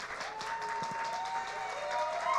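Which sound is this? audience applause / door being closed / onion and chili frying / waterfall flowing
audience applause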